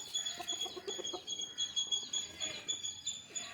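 A flock of country chickens clucks steadily, with a rhythmic series of short calls repeating close by over a quiet outdoor background.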